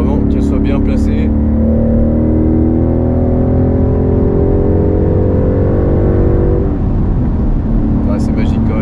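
Ford Mustang 5.0 V8 engine droning loud and steady, pitch climbing slowly as the car accelerates, then easing off near the end. Speech runs over it throughout.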